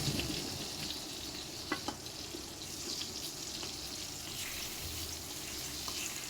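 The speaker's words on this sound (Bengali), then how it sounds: "এভাবে উল্টিয়ে উল্টিয়ে বেগুনটি আমি ভেজে নিব।" Eggplant slices frying in a little oil: a soft, steady sizzle, faint and close, with a couple of small clicks near the middle.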